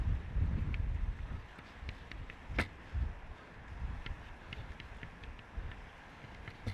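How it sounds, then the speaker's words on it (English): Wind gusting outdoors beside the River Sligachan on the Isle of Skye, rough low buffeting against the microphone that swells at the start and in bursts, with scattered faint clicks and a sharp tap, no talk. "Getting quite windy."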